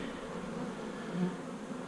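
A dense, continuous buzz of many bees hums close by at a hive, steady and moderately quiet with no voices.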